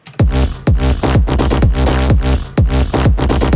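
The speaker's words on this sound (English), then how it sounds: "It gives that like pumping kind of vibe, like a sucking effect." Electronic dance track drop with sidechained bass that pumps in a steady rhythm, each thumping kick briefly ducking the loud sustained bass and synths before they swell back in a sucking pulse.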